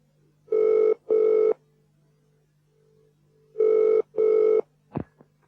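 Telephone ringing two double rings, the second pair after a pause of about two seconds, then a click as an answering machine picks up; loud, close and clean, with no talk.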